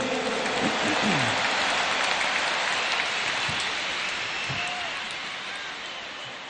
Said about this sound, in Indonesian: Tepuk tangan dulu yang meriah untuk Gus Muhaimin.